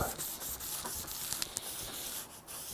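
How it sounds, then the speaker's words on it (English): Close, steady rubbing of 600 grit sandpaper across a guitar fretboard, a continuous soft hiss with small scratchy clicks, no talking. "Let's go back over this thing with a 600 grit. Get this smoothed out."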